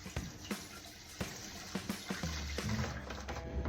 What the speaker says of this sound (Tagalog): Ilagyan dito yung tubig.